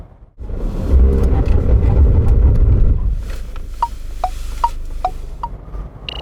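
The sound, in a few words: 2021 SsangYong Rexton braking test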